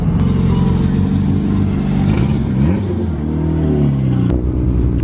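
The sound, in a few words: Camaro and Mustang accelerating at car meet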